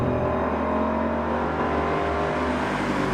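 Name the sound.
Ford Mustang Boss 302 engine revving while driving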